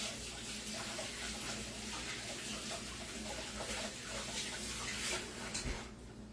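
A kitchen tap runs steadily while hands are rinsed during chicken and dressing preparation. The water hisses and splashes, continuous and close at a moderate level, then cuts off near the end.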